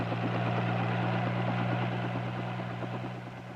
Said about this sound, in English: The rotor raises the helicopter straight up into the sky.